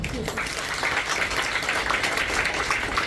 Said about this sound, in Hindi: अपने लिए आप ताली बजाएं